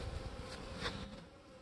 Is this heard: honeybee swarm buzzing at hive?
yes